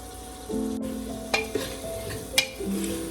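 Potato sizzling in hot tempering oil for dal khichdi, frying steadily at close range with a few sharp clinks of a spoon stirring the pan.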